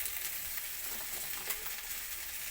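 Thin-sliced potatoes fry together with lightly browned ginger and onion in a pan, giving a steady, close sizzle with occasional stirring scrapes and no talk.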